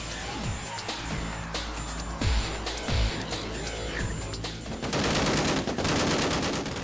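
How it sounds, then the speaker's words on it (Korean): Bursts of K6 heavy machine-gun fire boom out in quick succession, loud and close, with sharp reports and a thick, rumbling low end between shots. "분당 600발 사격이 가능한 K6 중기관총이다."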